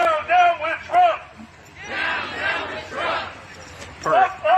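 A protest crowd of several dozen people at a street intersection in Minneapolis, heard as a moderately near murmur of many voices with a few louder rising shouts, with a single voice speaking over it at times.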